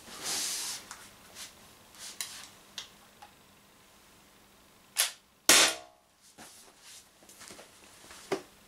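An Umarex HDR68 CO2 revolver fires at a tin can outdoors: a few sharp, loud cracks stand out, one much stronger than the rest, separated by faint ticks and quiet gaps.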